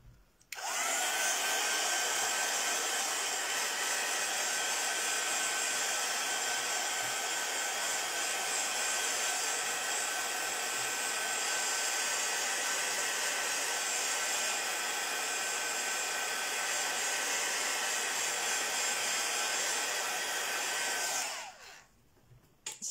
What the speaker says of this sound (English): Now let me grab the heat tool